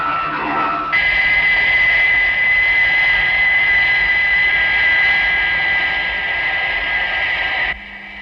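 A plane's aircraft engine drones steadily and loudly as it prepares to land, a continuous roar with a high whine that holds for most of the stretch before dropping off near the end.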